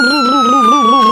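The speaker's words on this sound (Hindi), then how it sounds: "वाह देखो बच्चे लोग कितना महंगा एम्बुलेंस आ गया जाने के लिए" A cartoon ambulance siren wails loud and close, a bright electronic tone warbling up and down rapidly in a steady cycle, alone with no talk.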